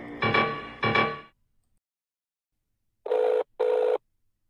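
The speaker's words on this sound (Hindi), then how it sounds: "लगाते हैं फोन" Ringback tone on a phone call, two long buzzing rings followed by silence, then two shorter, higher electronic tone bursts, clear and close with no talking.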